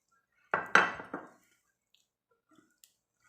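Cucumber kimchi being moved into a container, with three quick clinks of utensil against dish close up, then a few faint taps and near silence.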